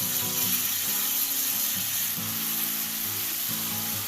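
Ginger garlic paste sizzling steadily in hot oil in a pan while cooking malai kofta gravy, a continuous close hiss with faint low stirring or bubbling underneath.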